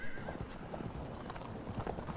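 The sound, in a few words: cataphract horse hooves, Field of Glory 2 video game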